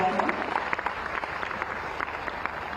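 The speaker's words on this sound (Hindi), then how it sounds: "तालियां बजती रहनी चाहिए, अच्छा लगेगा।" Sustained audience applause at the launch of a Bihar anti-drug youth campaign, dense clapping from a large crowd in a hall, continuous and fairly loud with scattered sharper claps.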